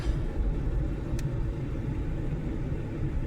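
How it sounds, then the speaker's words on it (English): Inside a moving Mercury car, a steady low road rumble of rush-hour traffic and engine noise fills the cabin, constant and even throughout with no talk. "There's a lot of traffic out today, man."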